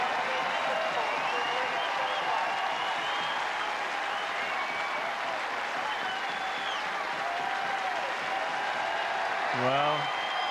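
A tennis crowd applauds after a match point, a dense, sustained wash of clapping heard at a distance throughout, with a brief voice near the end.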